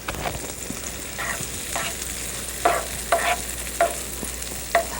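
Vegetables with zucchini sizzling as they fry in a pan, a steady hiss under repeated scraping stirs that come in short, regular strokes, close by with no talk.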